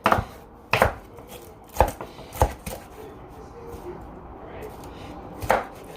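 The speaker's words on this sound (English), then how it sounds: "you could just kind of just chop up the whole thing" Knife chopping beef goulash ingredients on a cutting board, a handful of sharp, separated thuds spaced irregularly, close and fairly loud over a quiet kitchen background.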